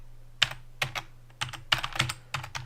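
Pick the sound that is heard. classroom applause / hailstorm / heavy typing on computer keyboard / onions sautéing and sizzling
heavy typing on computer keyboard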